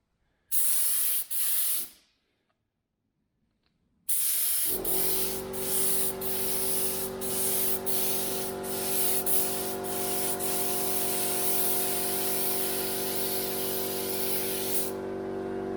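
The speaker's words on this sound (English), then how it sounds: "I removed the little filter in here and just cleaned everything. And as you can see now, it's spraying pretty nice." A tractor-mounted sprayer on a broom attachment sprays steadily with a clean filter, a close continuous hiss with a mechanical hum underneath, following a brief spurt and a pause near the start.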